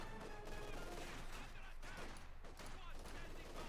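Light machine gun fire in Company of Heroes 2, a dense wash of overlapping gunshots and battle noise, steady and moderately loud throughout.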